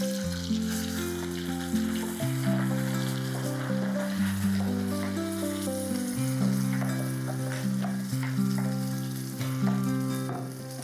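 A ground masala paste with crushed garlic fries in hot oil for a Malvani fish curry, its steady sizzle and crackle running beneath louder background music.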